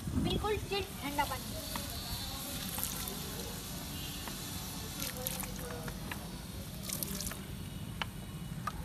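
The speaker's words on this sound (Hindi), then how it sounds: "गाइस आप देख सकते हैं इसे पानी डाल दिया" Water is poured onto a burning mixture of limestone and petrol, giving soft drips, splashes and faint hissing at low level, with people talking in the background.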